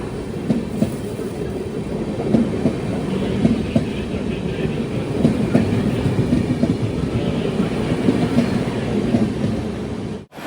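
An Intercity Express train runs on rails, a continuous heavy rumble with rhythmic clickety-clack of wheels over joints, heard steadily from inside the moving train.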